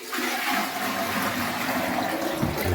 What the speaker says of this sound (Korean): 자, 자, 자, 물 부어주겠습니다.